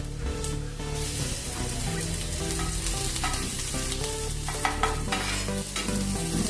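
Coarsely crushed garlic and cumin frying in hot oil in a pan for a vagati bhaji and bitter greens curry, giving a steady dense sizzle with light stirring scrapes throughout, no voices.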